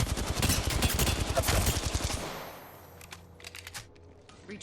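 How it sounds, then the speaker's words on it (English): Sustained gunfire in Apex Legends played on a Nintendo Switch, a dense stuttering volley for about two seconds that breaks off, followed by a few scattered quieter shots and clicks. "Getting shot at."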